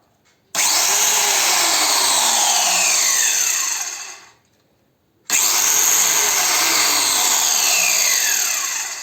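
A Bosch GDC 120 marble cutter runs at full power in two loud bursts, a long one and then a second after a brief silent pause, with a steady high-pitched whine and no talk.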